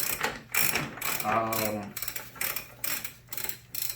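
A hand ratchet works the large rear axle nut on a Suzuki SV1000 motorcycle, giving several bursts of rapid clicking pawl ratcheting, close and fairly loud, with short pauses between strokes.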